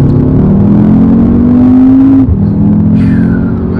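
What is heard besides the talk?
Audi TTS 310 hp car engine accelerating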